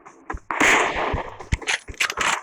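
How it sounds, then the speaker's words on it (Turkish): Gunfire in PUBG Mobile: several sharp shots and impacts in a short burst, loud and close amid game effects, with no talk. "Hocam üstünden bir atış sesi."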